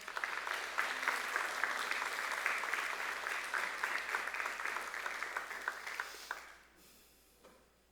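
A church congregation applauds during a sermon, a dense, sustained clapping that fades out after about six seconds.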